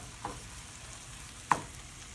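A home cook stirs food over a fire, with two brief scraping strokes against a low, steady sizzle in the pan; the sound is fairly quiet and no one speaks.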